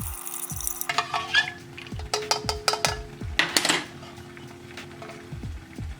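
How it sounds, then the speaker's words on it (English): A metal spoon clinks and scrapes repeatedly against the inside of a cup while MRE coffee is stirred, a series of sharp ringing taps in an uneven rhythm, close and fairly quiet with no talking. "Let's check out our coffee, give it a nice stir."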